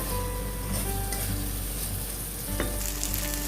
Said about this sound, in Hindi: चावल को थोड़ा सा फ्राई कर लूँगी इसमें